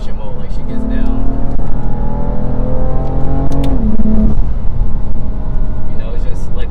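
A BMW F80 M3 Competition with a DCT gearbox gives off loud engine and intake noise while driving hard through a corner, revs rising steadily and then dropping, with someone talking over it throughout.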